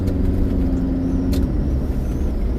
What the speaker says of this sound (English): electric car's got acceleration